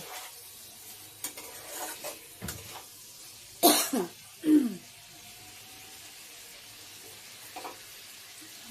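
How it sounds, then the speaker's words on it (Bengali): Hot water goes into a simmering Bengali bata fish curry masala with greens, potato and eggplant, bringing a couple of short loud splashing hisses midway, followed by quiet stirring and faint pan sounds. "গরম জলটি এখন ঢেলে দেব"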